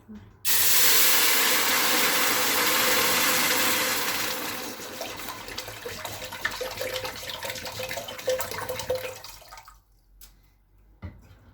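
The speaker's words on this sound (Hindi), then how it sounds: "इसमें हम 1 लीटर पानी शामिल कर देंगे।" About one litre of water gushes loudly into a cooking pot with a bright hissing splash, then gradually turns to softer sloshing and trickling before stopping.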